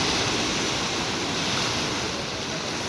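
A swollen, muddy river rushes beneath the Panankayam bridge at six in the morning after a landslide, a loud, continuous broadband roar with no pauses.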